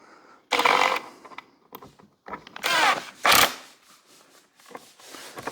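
Cordless impact wrench driving a screw through a socket into wood, heard as a few short loud bursts of rattling hammering separated by pauses, close up with handling noise between.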